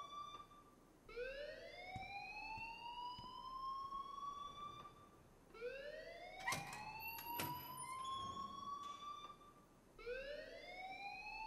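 Fire alarm in the Life Is Strange video game, a loud rising electronic siren sweep repeating in long whoops roughly every five seconds, heard close and alone without talk.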